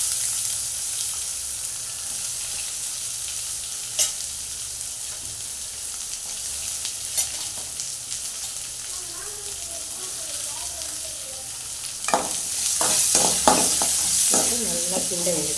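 Three onions tossed into hot oil with mustard seeds, urad dal and broken chillies for ragi adai, sizzling and crackling steadily up close, with scraping stirs and a louder burst of frying near the end.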